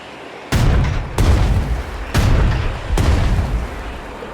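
Artillery and burst fire in the WWII strategy game Strategic Mind: Blitzkrieg, four heavy booming salvos at roughly one-second intervals, each with a rumbling tail, loud and close.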